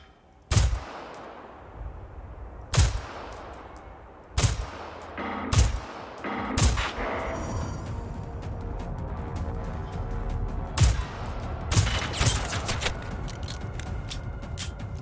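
Single heavy shots from the Molar rifle in Generation Zero ring out at irregular intervals, sharp and loud. A few follow in quicker succession near the end, over a steady rumbling game background with metallic clicks.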